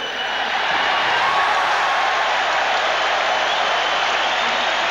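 Rugby stadium crowd during a tense South Africa versus Australia match, a broad, loud and continuous roar of cheering and applause that holds steady for the whole stretch.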